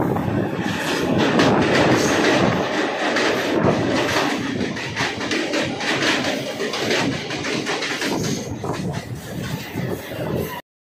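A Danapur–Tilaiya passenger express train running on rails, a loud, steady rolling roar with rhythmic clickety-clack of wheels over joints and faint squeals, heard from on board for the whole stretch.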